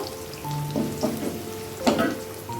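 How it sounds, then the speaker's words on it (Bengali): Paneer cubes lightly frying in a pan with white cumin, a soft steady sizzle with a few brief scraping stirs and faint tonal hum in the background, no voices. "একটু হালকা ভাজি হচ্ছে সব একসাথে"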